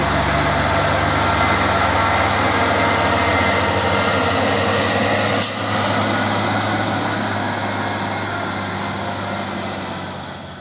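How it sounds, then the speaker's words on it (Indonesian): A heavy 6x4 tanker truck engine idles loudly and steadily, a deep continuous rumble that fades slightly toward the end. "Truk tangki 6x4"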